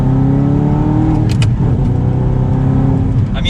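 An Audi R8 engine with a manual gearbox, in sport mode, rumbles loud and close, its pitch shifting with a quick rev blip on a downshift partway through.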